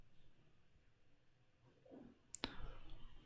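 A computer mouse gives a single sharp right click, then a second quick click, close and crisp against a quiet room hum.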